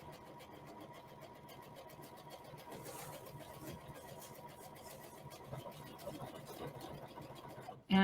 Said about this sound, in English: All we're doing is pushing the pedal and the machine's doing the work.